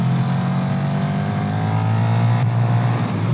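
KTM 1290 Super Duke R Evo motorcycle accelerating in comfort mode, a loud, steady engine drone with the pitch gradually rising, close and continuous, with no speech.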